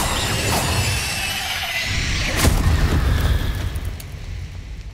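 An Incendio fire spell cast in Hogwarts Legacy: a loud whooshing, crackling fiery burst with a sharp peak midway, over continuous rumbling combat noise.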